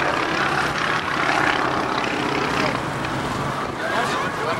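Piston engine of John Mohr's aerobatic airplane during inverted flight at the 2008 NAS Oceana airshow, a steady distant drone sputtering as fuel starves, with a commentator's voice over it.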